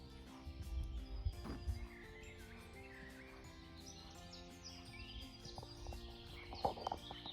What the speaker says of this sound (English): There must be 50, 60 birds all chirping away at the same time.